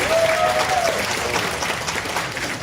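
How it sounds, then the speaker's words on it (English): A room full of audience members claps steadily throughout, a dense even patter of applause with a faint tone briefly audible early on. "Give yourself a big round of applause."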